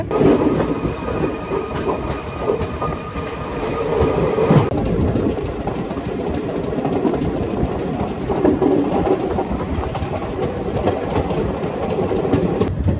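Puri-Tirupati Express running through Mottur station near Gudivada Junction, a steady loud rumble with continuous rail clatter from start to finish, with no voices.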